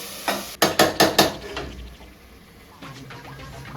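Tomatoes are stirred in a cooking pot: a quick series of four or five close, hard knocks of a utensil against the pot, then softer scraping.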